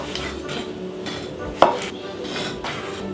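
A knife slices the top off a tomato on a cutting board, a single sharp knock against the board amid soft handling noises and light clinks.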